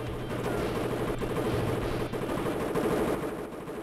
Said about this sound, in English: There's something very satisfying about these tanks here. The fact that they just constantly fire